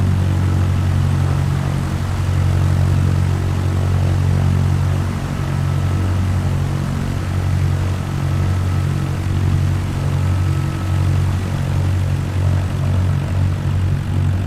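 A Cessna taildragger in Microsoft Flight Simulator, heard from outside with its propeller engine running, a loud, steady low droning hum that holds constant throughout.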